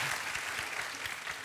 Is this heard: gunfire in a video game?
no